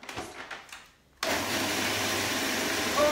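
Hazelnuts being ground into fine powder in a grinder make a steady, loud whirring motor roar that starts abruptly after a few soft knocks and runs continuously to the end.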